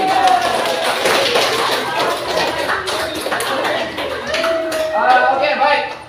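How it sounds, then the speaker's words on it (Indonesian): Classroom applause for students in an English lesson, a brief scattered round of clapping and tapping heard under a teacher's voice, fairly close and moderately loud. "Tepuk tangan untuk kalian."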